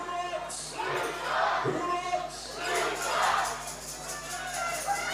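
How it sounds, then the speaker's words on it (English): A crowd at an Australian Baseball League game between the Brisbane Bandits and Sydney Blue Sox roars in broad swelling waves, loud and distant across the ballpark. "The crowd is ready and roaring to go."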